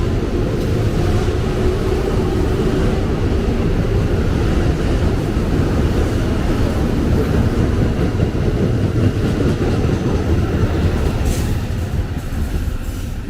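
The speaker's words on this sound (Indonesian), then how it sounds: "ada kereta melintas langsung di jalur 3 dari arah Gambir" A train passes straight through Manggarai station on track 3, arriving from the Gambir direction: a loud, close, continuous rumble of rail cars with rattling wheels that fades slightly near the end, with no talk.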